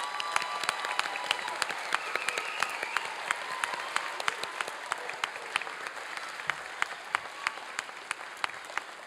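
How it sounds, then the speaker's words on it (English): Sustained applause from a commencement audience honoring graduating ethnic studies students, dense steady clapping with sharp individual claps standing out, heard from a distance and lasting throughout. "let's give them all a big round of applause"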